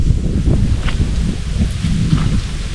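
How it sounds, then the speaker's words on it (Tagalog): Heavy rain driven by wind over a rice paddy, a dense, unbroken roar of rainfall with low gusty rumbling, loud and constant with no voices. "Grabing ulan mga silo. May haalo pang hangin."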